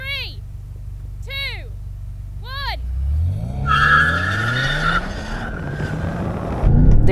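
Rear-wheel-drive BMW M5 launching in a drag race, preceded by three rising countdown beeps, then engine revs climb sharply with tire squeal and skidding as the car pulls away, a voice briefly audible.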